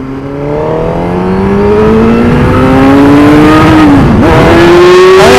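A motorcycle engine revving hard through a clutch-up wheelie, loud and close, its pitch climbing steadily, dipping sharply for a moment, then surging back up and holding high.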